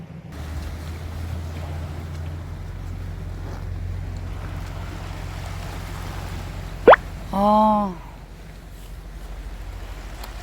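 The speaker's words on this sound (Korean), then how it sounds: "파도 소리 좋아요?" Sea waves washing against an island shore, a steady close rushing wash with low wind-like rumble throughout, broken near the end by a short click and a brief vocal sound from a person.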